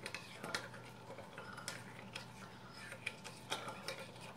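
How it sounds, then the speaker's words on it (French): Fresh yeast, sugar and warm milk stirred in a bowl, giving soft scraping and light clinking taps at an irregular pace, fairly faint and close with faint room noise beneath. "Je remue."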